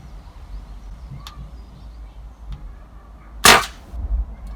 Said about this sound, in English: So I'm going to give it another shot in a different place